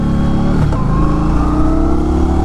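An Indian Scout Rogue motorcycle engine revs loudly and close by, its pitch climbing steadily through a single strong pull during a test ride while the bike is still in its break-in period.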